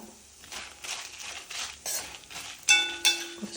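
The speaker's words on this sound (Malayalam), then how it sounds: "അത് നല്ലോണം ഇളക്കി കൊടുക്കാം" A spoon stirs dried red and Kashmiri chillies in a pan, giving soft scraping and rustling strokes at a steady rhythm, followed by two louder metallic clinks near the end.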